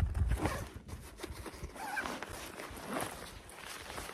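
A backpack zipper is drawn along in short rasping strokes, close by and moderately loud, with faint rustling of fabric around it, on a Venture Pal 40L lightweight packable hiking daypack.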